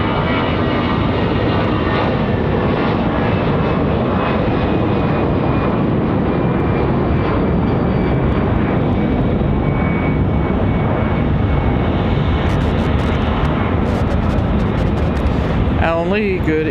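Airliner departing Raleigh Durham International, a loud sustained jet roar with a whine that slowly shifts pitch as the aircraft climbs away, talk mixed in over the engines.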